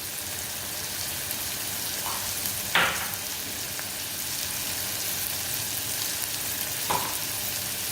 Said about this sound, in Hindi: गैस का फ्लेम मुझे यहाँ पर मीडियम रखना है। दो मिनट तक कैप्सिकम को सौते होने देते हैं।